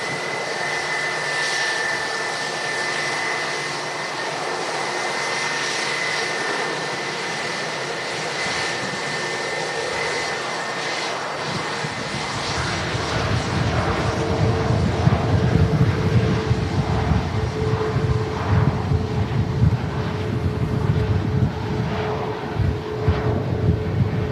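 Jet airliner landing at windy Manchester Airport, heard from outside: a steady broadband roar with wind noise that swells into a louder, rumbling low-pitched surge partway through as the aircraft comes down the runway.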